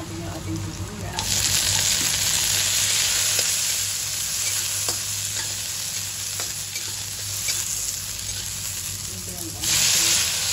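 Ginger and onion sizzle and fry in a little oil in a pan, a steady close hiss that swells louder after the first second, with faint stirring clicks and no talking.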